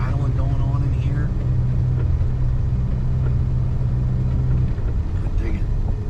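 A 1990 Volkswagen Cabriolet cruises along the road with a low, steady engine drone and road rumble heard from inside the cabin, while someone talks over it.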